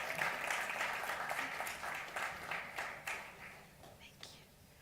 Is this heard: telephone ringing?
no